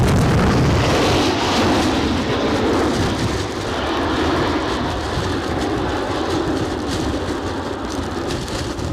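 Aircraft engines roar at gusty, windy Edinburgh airport, a loud, broad rushing noise that swells and fades with the wind across the whole stretch.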